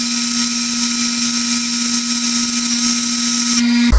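Drill spinning a tungsten electrode against a grinding wheel, a loud, steady high whir with a constant hum beneath, holding even for several seconds before a brief change at the end.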